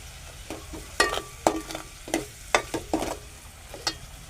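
Soybean sabji with paste sizzles in a pan while a spoon stirs and scrapes it, giving irregular sharp scraping clicks over a soft frying hiss, close up and with no talking.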